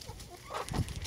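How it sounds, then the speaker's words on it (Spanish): A hen clucking nearby in a backyard coop, a short burst of a few quick clucks heard alone. "Ay, esa gallina."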